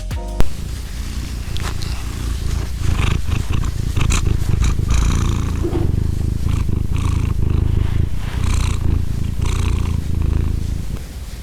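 A cat purrs loudly and continuously up close, a deep rumbling vibration with steady rhythmic breaths throughout.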